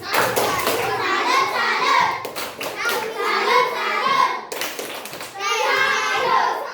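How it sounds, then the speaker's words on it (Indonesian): A classroom of children performs the tepuk salut clapping routine, chanting loudly in unison while rhythmic clapping runs through the chant in several repeated phrases. "kita kasih dulu tepuk salut"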